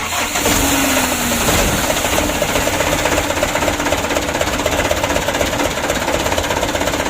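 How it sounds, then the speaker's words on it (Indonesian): A motorcycle engine that had been submerged in floodwater is cranked with the starter and catches, then settles into a loud, steady, rapidly pulsing idle with no talk. "Kita coba dulu, kita starter, kita hidupkan."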